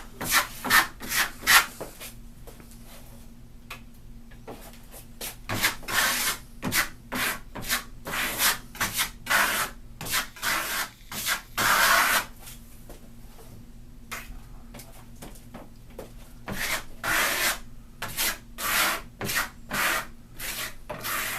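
A stainless steel trowel spreads Firenzecolor lime paint over a board in circular motions, making a close, rhythmic series of rasping, scraping strokes that repeat steadily throughout.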